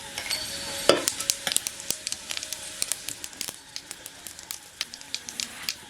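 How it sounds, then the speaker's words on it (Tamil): Hot oil crackles and sizzles steadily with sharp pops and spits as fennel seeds and spices fry, close up, along with a brief stirring or clatter near the start. "எண்ணெய் நல்லா சூடாயிடுச்சு முன்னாடி சோம்பு சேர்த்துக்கலாம்"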